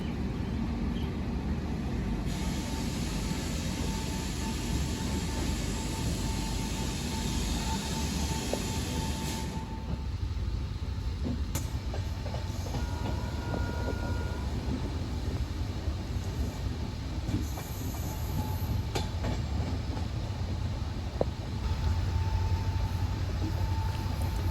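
The Amritsar Bikaner Weekly Express, heard from on board near the India-Pakistan border, gives a continuous low rumble of wheels on track for the whole stretch, with occasional faint clanks and no talking.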